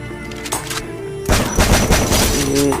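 Gunfire in the video game Free Fire, loud close bursts of rapid shots and booming impacts that grow denser in the second half, with faint game sounds underneath.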